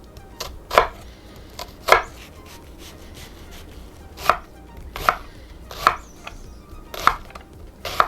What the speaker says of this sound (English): Peel the onion, chop the onion.